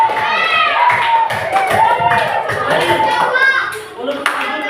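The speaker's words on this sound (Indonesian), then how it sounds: "Oke, tepuk tangan untuk kali ini." Children clap together in a classroom lesson on coding and artificial intelligence, a brisk patter mixed with lively young voices talking and calling out over it throughout.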